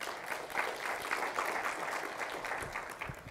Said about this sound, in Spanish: denle un fuerte aplauso a Pepe Luis allá arriba.